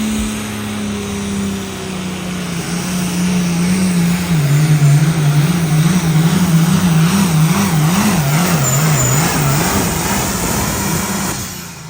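High-horsepower pulling tractor engine at an ECI truck and tractor pull in Springville, Iowa, a loud continuous roar with a wavering, surging pitch as it works under load, with no voices over it.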